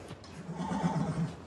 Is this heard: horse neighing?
yes